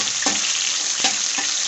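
Onion and panch phoron fry in hot oil with a loud, continuous sizzle, broken by a few sharp stirring scrapes in the pan.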